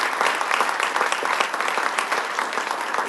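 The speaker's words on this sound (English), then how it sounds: "Please give them a round of applause." An audience at a Nashville SC unified team event claps for Special Olympics Tennessee, a dense, even round of applause filling the whole stretch with no voices over it.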